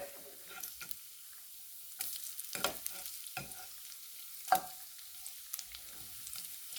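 Bacon strips sizzle with a faint, steady crackle in a pan, with a few sharper scrapes and clatters of a utensil against the pan as the pieces are turned.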